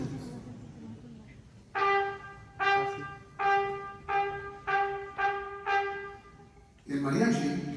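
A trumpet plays six separate, evenly spaced notes with single tonguing, each cleanly attacked and clipped, followed by a brief louder burst at the end.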